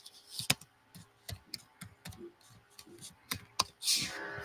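Typing on a computer keyboard during a Power BI lesson, quick irregular bursts of close key clicks, fairly quiet, with a brief louder rustle near the end.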